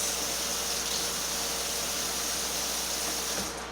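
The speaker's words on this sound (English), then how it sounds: "Give my hand a little rinse." Running tap water rinses hands in a kitchen, a steady, fairly soft hissing rush that holds evenly throughout and fades slightly at the very end, with no voices.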